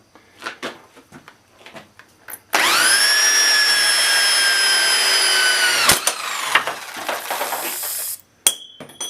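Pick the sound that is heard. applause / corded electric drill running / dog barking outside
corded electric drill running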